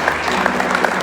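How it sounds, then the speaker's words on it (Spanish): A church congregation claps in thanks to the Lord during a worship service, a short burst of many hands with a few sharper individual claps standing out from the steady patter. "Da un aplauso al Señor con gratitud."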